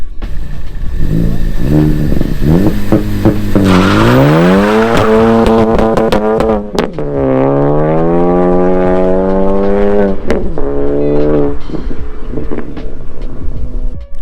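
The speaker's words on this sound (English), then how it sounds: "So I'm gonna do a launch right here just to show you guys" A Ford Focus ST with a new rear motor mount doing a hard launch, its engine revving loudly up and down, tires spinning and squealing, close and intense throughout.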